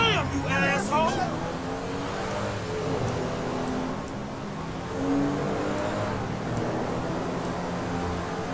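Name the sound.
car driving fast in video game GTA 5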